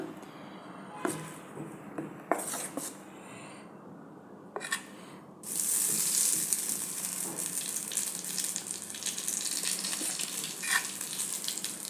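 Appe batter with onion in a hot appe pan on a gas stove: a few clicks and light clatter, then a steady, close sizzle that keeps going to the end.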